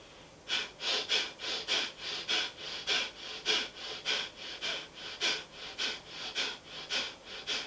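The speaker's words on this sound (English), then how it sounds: "In this practice, you're breathing in and out very quickly through the nose" Rapid, forceful Kapalabhati breath of fire through the nose, a quick regular series of about twenty sharp exhalations, close and clear with nothing else heard.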